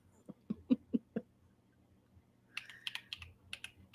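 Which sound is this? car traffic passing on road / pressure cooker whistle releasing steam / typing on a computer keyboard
typing on a computer keyboard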